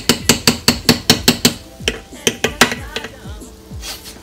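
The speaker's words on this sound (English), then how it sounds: "I'm gonna mix up my grits a little bit more" A metal spoon stirring grits in a pot, a rapid run of sharp, ringing clanks against the pot's side that slows into scattered scraping knocks, close and loud.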